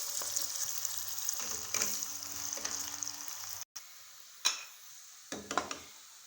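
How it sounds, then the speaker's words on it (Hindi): Steady crackling sizzle of onions frying in a pan, with a few scrapes and clinks of stirring and a brief gap near the middle. "प्याज को हल्का फ्राई करेंगे।"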